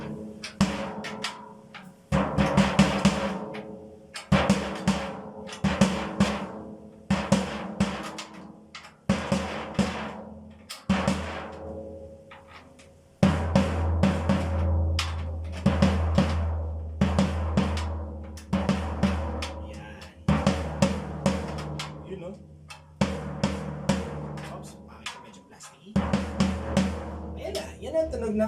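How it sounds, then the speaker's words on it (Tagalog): A floor tom on a drum kit struck repeatedly during tuning, with single and grouped hits in a loose, irregular rhythm, each boomy thud decaying before the next. The pitch lowers and deepens partway through, played alone up close. "Yan ang tunog ng ating floor tom."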